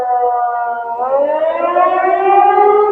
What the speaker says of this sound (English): the siren's going to go off.